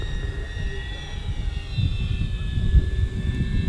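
An E-flite RV-7 1.1m BNF Basic RC airplane flies overhead, its electric motor giving a steady buzzing drone with a shifting pitch, moderately near over outdoor background noise.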